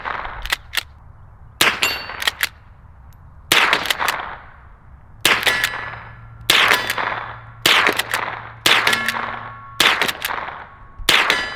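A .22 pump-action rifle fires round after round at steel targets, each sharp crack followed by a ringing metallic clang, about a dozen shots in irregular quick succession, loud and close.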